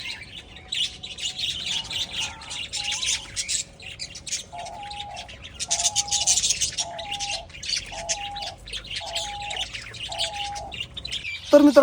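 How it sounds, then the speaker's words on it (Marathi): Birds call near a lodge in Nashik, with a repeated series of short, evenly spaced squawking notes over a constant high chorus of chirps and a steady hum, with no one talking. "ही कुठल्याही प्रकारचं बॅकग्राऊंड म्युझिक नाही, पक्ष्यांचा आवाज आहे"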